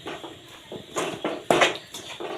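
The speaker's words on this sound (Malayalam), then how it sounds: "ഇനി ഇതും ഒന്ന് ഇളക്കിയെടുക്കാം." Spoon scraping and clinking against a pot as sugar is stirred into a sweet laddu mixture, a series of short, close, uneven scrapes that build slightly louder toward the end.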